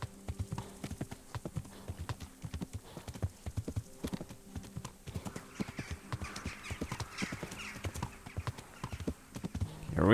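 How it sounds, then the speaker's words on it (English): Hooves clop in a fast, steady rhythm as a horse is ridden in the medieval game Kingdom Come: Deliverance, clear and prominent with a brief whinny-like sound near the end and little talk. "I'll get very good at horse riding eventually."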